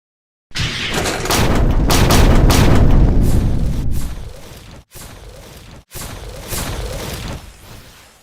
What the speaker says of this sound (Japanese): マグマの全身サイズでのミサイル連続発射をご覧ください。